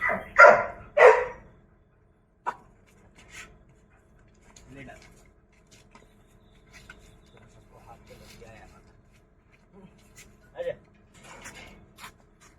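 A German Shepherd and a Pitbull bark loudly in a quick burst near the start, then only faint scattered noises and a few soft yelps follow for the rest of the clip, with a person speaking briefly in the background.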